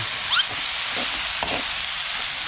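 Small frogs stir-fry in a full, very hot pan over a strong flame, a bright continuous sizzle with scraping stirs of a spatula and a few sharp hisses, close and steady with no talk.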